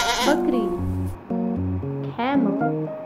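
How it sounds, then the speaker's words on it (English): A farm goat bleats several times, close and fairly loud, in wavering, quavering calls separated by short pauses. "goat, bakri,"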